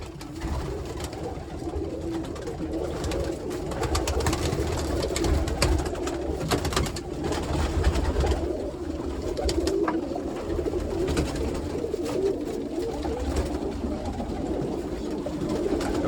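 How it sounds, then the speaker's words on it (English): Roller pigeon cocks coo softly and continuously inside a loft, a low murmuring chorus of several birds with shuffling and light rustling underneath. "The rollers are absolutely amazing looking birds, man."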